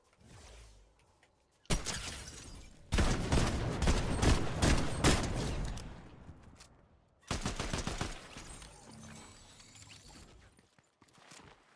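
M16 rifle fire in the Fortnite video game comes in loud, rapid bursts: a short burst first, a long sustained volley, then a second dense volley that tails off into quieter action sounds.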